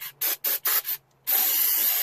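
Aerosol spray can used on an old vehicle: four short hissing bursts in a steady rhythm, a brief pause, then one long continuous spray, close and clear with no talking.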